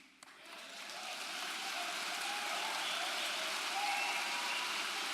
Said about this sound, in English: are you all applauding about that?